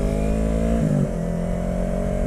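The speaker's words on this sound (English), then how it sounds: "this is my Yamaha R3 2015." A 2015 Yamaha R3 motorcycle engine holds a steady, loud, close drone, dipping in pitch briefly just before the one-second mark and then settling back to an even note.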